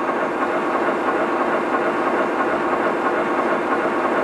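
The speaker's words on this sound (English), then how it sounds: "We're going to go ahead and turn the throttle and get the engine running." A diesel locomotive engine running in a train simulator, a steady, dense mechanical rumble and hum that holds at an even loudness throughout, with no voices.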